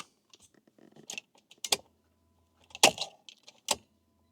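Sharp, close relay clicks from a faulty sunroof circuit in a retro barn-find Fiat Coupé, three distinct snaps spaced about a second apart against near silence.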